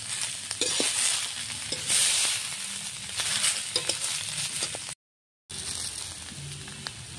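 Soybean chunks and egg curry ingredients fry in a pan, a steady crackling sizzle with stirring scrapes and small knocks, cut briefly by a short silent gap before the frying continues.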